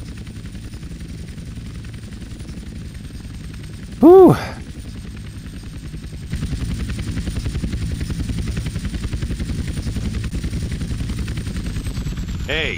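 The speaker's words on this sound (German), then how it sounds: "Lande den Heli in der markierten Zone." Helicopter in GTA San Andreas flying in to land in a marked zone, a steady rotor drone throughout with a brief louder burst partway and the hum growing fuller near the end; a voice speaks briefly.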